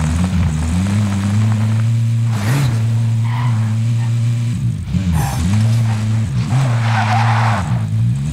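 A car driving with a steady loud engine drone in the Call of Duty: Modern Warfare video game, its tires skidding and squealing in a few bursts, with faint talk underneath.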